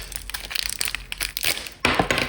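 A blade slices into the plastic packaging of a Funskool Army Jeep (VAMP) toy, producing short crackling, crinkling cuts and scrapes close up, ending in a louder burst of crunching plastic.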